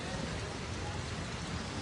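Light drizzling rain falling steadily at a main bus stand in Losal, a dense even hiss of drops that stays constant and fairly close throughout.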